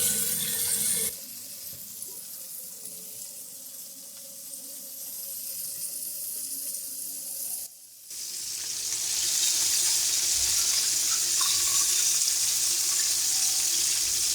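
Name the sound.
chicken drumsticks frying in hot oil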